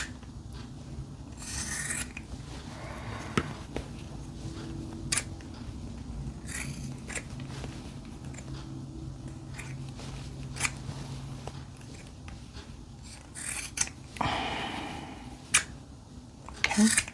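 Scissors cut through fabric for a pair of joggers, producing repeated close rasping snips and rubbing scrapes at an uneven pace, with faint fabric handling between cuts and no talk.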